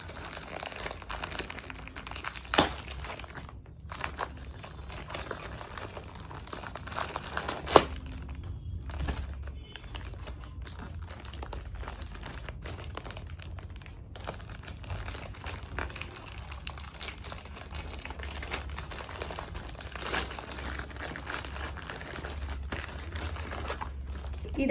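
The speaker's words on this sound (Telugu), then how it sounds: "So let's unbox these two." Packaging from an Amazon order crinkling and rustling while being unboxed, a continuous close scrunching with a few louder crackles and no speech.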